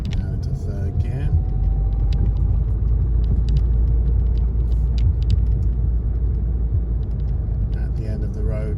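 A car's engine drones steadily as it drives along a road and shifts up into third gear; the low rumble stays constant and close, with a brief voice near the start.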